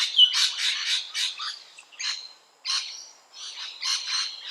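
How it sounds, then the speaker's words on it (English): Rainbow lorikeets in Sydney give shrill, high-pitched squawking calls in a rapid series of harsh bursts with brief pauses between them, clear and fairly close against a quiet background. "the high-pitched sounds, the tireless search for food and their abundance, make the rainbow lorikeet unique"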